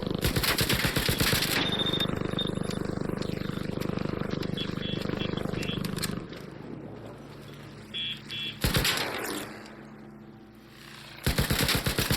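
Gunfire in the game ARC Raiders on PS5: rapid bursts of repeated shots at the start, middle and end, separated by quieter stretches of in-game sound.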